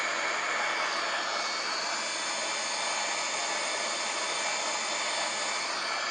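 Wizz Air Airbus A330 engines in Microsoft Flight Simulator give a steady, even jet roar that holds at a constant level throughout, with no voices.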